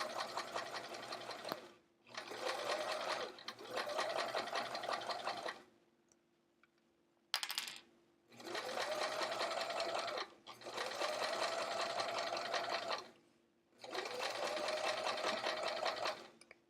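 A sewing machine stitches inside pockets of a fabric travel art folio, running in several steady whirring bursts of a few seconds each, separated by short quiet pauses, close and clear with no talking.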